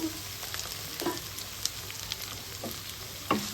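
Sliced ivy gourd sizzles in hot oil with onions already fried, a steady crackling hiss broken by a few sharp clinks and scrapes of a spoon stirring the pan, close by.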